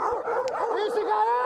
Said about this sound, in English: These wild dogs? No, they look like they come from that house up there.